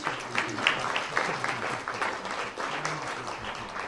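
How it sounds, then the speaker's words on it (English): Steady applause from a City Club audience for event sponsors, a moderate crowd clapping continuously with a few louder claps standing out, heard from a little distance. "Let's give all of our sponsors a round of applause."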